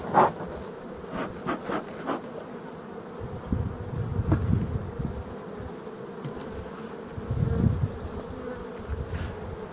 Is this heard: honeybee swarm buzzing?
yes